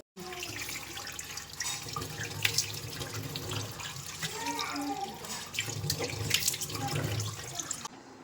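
Tap water runs into a sink while a dried face pack is washed off, a steady close splashing stream with irregular drips and splashes from hands in the flow.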